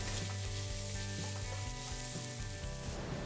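Green chillies and garlic paste sauté in a pan for mutton dalcha, giving a steady, quiet sizzle with faint stirring scrapes and no talking.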